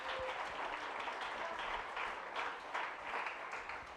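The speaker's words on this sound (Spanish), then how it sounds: "Dele un aplauso al Señor." Church congregation at a special service applauds, giving a steady, fairly soft, even wash of many hands clapping that continues for the whole stretch with no speech over it.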